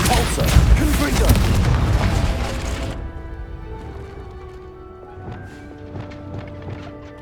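Confringo spell blasts in the Hogwarts Legacy video game, a loud booming rumble for about three seconds that cuts off into quieter game ambience with faint knocks and tones.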